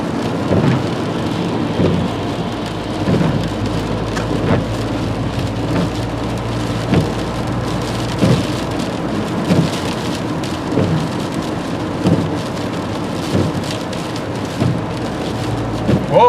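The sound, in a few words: heavy rain and thunder of a nor'easter storm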